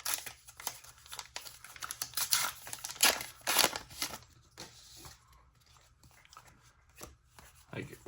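Plastic packaging from a Star Wars Unlimited Twilight of the Republic card pack crinkles and tears open up close, a run of dense rustling bursts that fades to quieter handling, with a voice speaking briefly.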